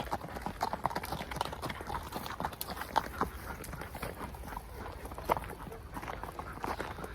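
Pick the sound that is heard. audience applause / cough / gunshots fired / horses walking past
horses walking past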